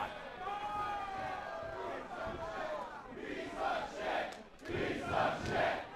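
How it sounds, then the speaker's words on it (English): A wrestling crowd at a live indoor show shouts and jeers at Johnny the One in loud rising waves of massed voices, with a few cries standing out from the roar. "The crowd telling Johnny just exactly what they think of him."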